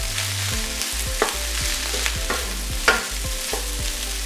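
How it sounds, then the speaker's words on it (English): Pulled pork fried rice stir-fried and tossed in a hot pan, a steady close sizzle broken by a series of sharp scraping and tossing knocks roughly every half second, with no talk. "Keep tossing this around the pan"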